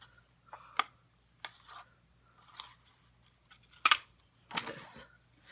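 Scissors snip paper shapes for a Halloween card in quiet, sparse cuts, a handful of short crisp snips with pauses between, close up.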